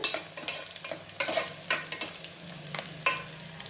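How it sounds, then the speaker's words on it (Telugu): Onions frying in a pan for pudina rice, stirred with repeated sharp scraping strokes in an uneven rhythm over a light sizzle, close up with no talking. "కొంచెంసేపు ఆనియన్ని బాగా వేగనిద్దాము. వేపుకుందాం బాగా."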